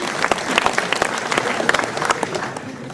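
An audience at a mayor's New Year address in a town hall claps steadily for a few seconds, dense overlapping hand claps with scattered sharper slaps, moderately loud and close.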